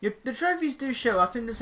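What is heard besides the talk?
No everyday noises stand out.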